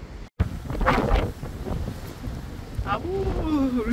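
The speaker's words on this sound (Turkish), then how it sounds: "İnanılmaz bir fırtına var bugün ya." A strong windstorm blusters and roars against the microphone outdoors near a farm's chicken coops, steady and loud throughout, with a brief dropout near the start.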